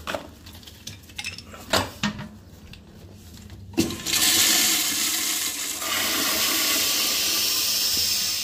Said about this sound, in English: Make sure that's a full flush there.